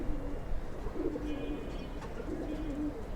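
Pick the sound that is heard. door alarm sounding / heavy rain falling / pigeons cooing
pigeons cooing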